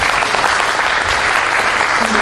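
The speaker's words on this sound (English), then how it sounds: "these kids, they deserve another round of big applause" Big, loud round of audience applause for the children at a music school's annual day event, dense continuous clapping from a full hall that stays steady throughout the short burst.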